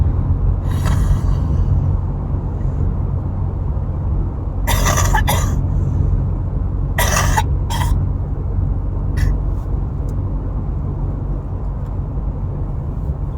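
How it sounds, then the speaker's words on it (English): A few productive, wheezy coughs break through a low steady rumble: one early, a cluster of harsh coughs in the middle, then a couple of fainter ones. "But I am finally getting a productive cough."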